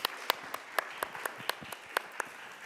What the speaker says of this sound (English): we have really to applaud this guy